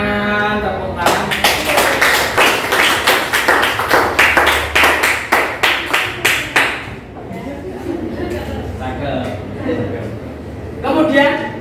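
A classroom group claps in a fast, steady rhythm of sharp, loud hits that stops after several seconds, followed by chatter and a short final burst of claps.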